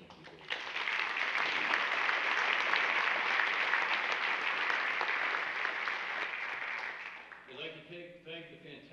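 Warm applause from the crowd at a historic preservation awards evening, building quickly into a full, steady roar of clapping that fades out before a voice begins speaking at the end.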